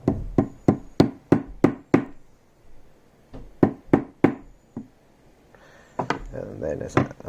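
A wooden slat from a cast iron garden bench is knocked down onto a drill template with a fast run of sharp, loud knocks close by. More bursts of quick raps follow after short pauses.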